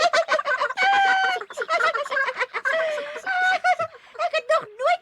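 A cartoon duck pops out of a clock and quacks, a rapid, loud, nasal run of honking calls in quick bursts that sounds like a voice imitating the duck.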